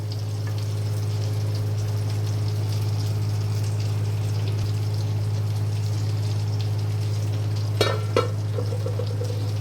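Hilsa fish curry cooks in oil in a covered pan with a soft, continuous sizzle under a steady low hum. A brief clatter of stirring comes near the end.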